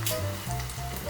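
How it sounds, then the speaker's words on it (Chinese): Chicken pieces coated in potato starch deep-fry in hot oil, producing a dense, crackling sizzle that stays steady and close across the short moment, with a low background hum underneath. "油炸的声音清脆且响亮。"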